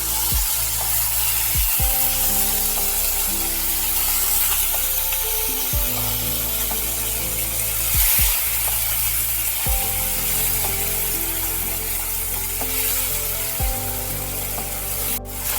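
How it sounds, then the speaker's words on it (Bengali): Diced potatoes frying in oil tempered with cumin and asafoetida, a steady broad hiss of sizzling throughout with occasional stirring scrapes, layered over soft tonal background music. "ফোড়ন তেলে একটু নেড়ে চেড়ে নিয়ে দিয়ে দিতে হবে ডুমো করে কেটে রাখা আলু।"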